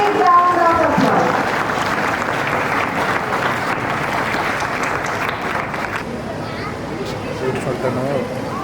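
Loud, sustained clapping from a large crowd welcoming the chief guest at an Independence Day school function at LR DAV, Cuttack, with faint chatter underneath as the applause gradually eases.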